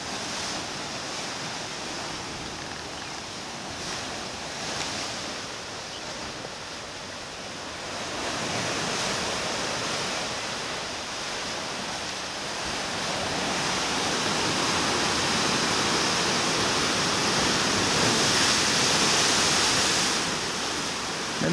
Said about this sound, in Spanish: Menos mal que el mar está tranquilo.